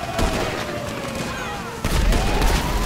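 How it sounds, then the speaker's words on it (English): Rapid bursts of gunfire crack and boom during a GTA 5 purge-style shootout, with dense repeated shots and a sharp louder blast partway through, close and loud. "I gotta shoot some bitch."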